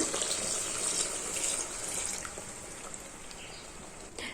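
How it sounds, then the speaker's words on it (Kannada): Water pours steadily into a mixer jar for sambar, a continuous splashing gush that softens slightly toward the end, heard alone without speech. "ನಾನು ಮಿಕ್ಸಿ ಜಾರಿಗೆ ನೀರನ್ನು ಹಾಕೊಂಡು ಹಾಕ್ಕೊಳ್ತಾ ಇದ್ದೀನಿ"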